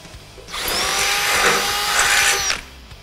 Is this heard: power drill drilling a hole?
yes